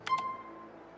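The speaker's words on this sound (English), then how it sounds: "other game effects like the help box" The Grand Theft Auto IV help box pops up with a short, soft chime: two quick clicks followed by a thin ringing tone that fades within a second.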